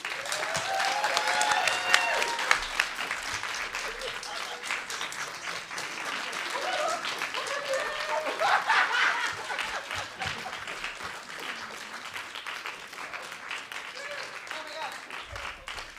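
Sustained applause from a live audience at a storytelling show, honoring four storytellers, with scattered cheers and chuckles, steady for the full stretch and easing slightly toward the end.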